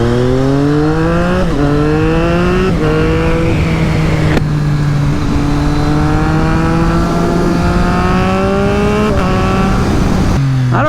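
A Triumph Street Triple RS motorcycle fitted with a DNA air filter pulls hard through the gears, its engine note rising steadily and dropping at each quick upshift, loud and continuous with no talking.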